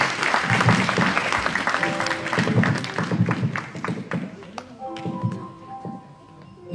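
A church congregation breaks into sustained applause and clapping at a 2017 wedding blessing, loud and dense at first, then thinning toward the end as a few sustained musical tones emerge beneath.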